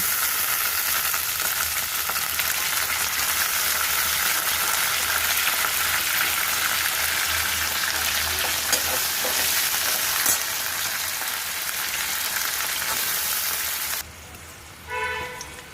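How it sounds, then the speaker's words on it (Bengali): Green beans frying loudly in a pan with a dense, continuous crackling sizzle, up close, that drops off suddenly near the end. "ভেজে নেব বিনসগুলো দিয়ে দেব"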